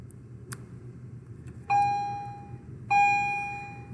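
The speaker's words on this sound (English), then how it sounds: "There's the bell." Two electronic school bell tones ring out in a classroom during a lesson, each a sudden loud sustained chime that slowly fades, the first at about 1.7 seconds and the second just before 3 seconds, over quiet room hum.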